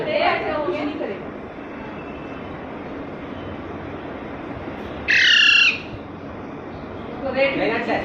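A macaw parrot chick gives a sharp, high squeak close by, heard over steady background noise while people talk.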